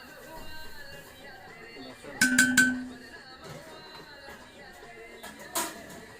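A metal spatula clinks against a cooking pot while biryani is prepared, giving a short burst of bright, ringing taps near the middle and another near the end, with people talking in the background.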